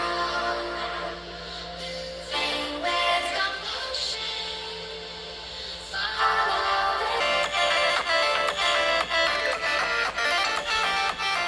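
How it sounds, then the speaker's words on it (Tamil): Music played back through the top and bottom speakers of a Realme P3 Ultra phone, bright and moderately loud with a steady beat, getting fuller and louder partway through. "ஸோ இந்த ஃபோனில் டாப் அண்ட் பாட்டம்னு எவ்வளோ ஸ்பீக்கர் அவுட்புட் வருதுன்னு நீங்களே கேளுங்க."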